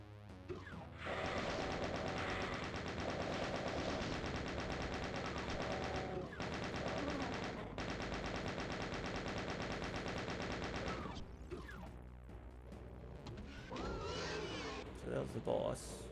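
Doom video game shotgun fire and combat noise, dense continuous blasts and crashes filling the mix with brief gaps, loud and close, with the game's action sounds carrying throughout.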